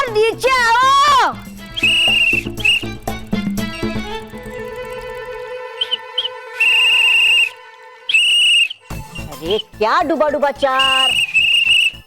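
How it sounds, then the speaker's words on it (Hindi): A child actor in a superhero TV episode blows shrill whistle blasts in several bursts, loud and close, alternating with short spoken exclamations and stretches of musical score. "बोल रहे हो या फिर सीटी बजा रहे हो?"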